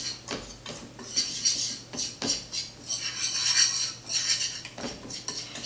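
Stirring homemade Thanksgiving gravy in a pan with salt and pepper: a metal utensil scrapes and clinks against the pan in repeated rhythmic strokes, close and fairly loud, with no talking.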